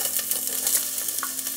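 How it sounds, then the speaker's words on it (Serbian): Vegetables hitting hot oil in a very hot pot, giving a steady bright sizzle with faint stirring clicks, close and continuous with no voices. "Sad ćemo, znači, na ovo ulje, vidite da se odmah razgrijava jer je šerpa vrela, dodati ovo povrće"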